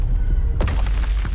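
A Confringo fire spell in Hogwarts Legacy bursts as a single loud, deep boom with a brief crackling tail over a rumbling game backdrop.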